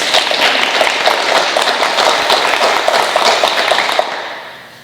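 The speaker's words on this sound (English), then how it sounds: "Let's have a nice round of applause for our 5 male nominees." An audience at a university organizational awards day applauds its five male nominees: dense, steady clapping from many hands that holds loud for about four seconds, then fades away.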